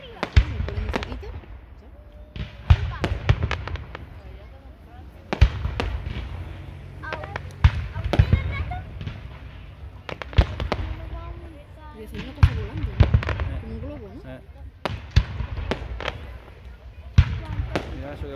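A fireworks display at the 2022 Utrera fair booms in heavy, regularly spaced deep blasts, each followed by crackling and rumble, loud and fairly close, with someone talking between bursts.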